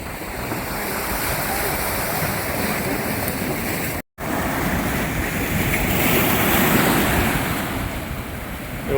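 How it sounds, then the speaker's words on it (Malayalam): Waves surge onto the shore at Chethy fishing harbour beach, Alappuzha, in a continuous loud wash of surf with wind noise, broken by a brief dropout in the middle before the roar resumes. "വെള്ളം അടിച്ച് കയറുന്നു."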